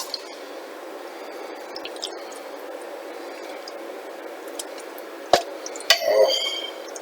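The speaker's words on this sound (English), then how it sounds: "all that's left to do is to ladle some in" Sarma suppa, a Macedonian cabbage roll soup with cabbage, mince and tomatoes, is ladled into a warmed bowl, giving a soft clink and a couple of wet, squishy splashes near the end against a quiet kitchen background.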